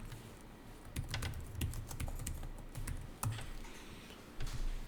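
Typing on a computer keyboard in an office accounting setting: steady, rapid key clicks with a few heavier strokes, close and alone.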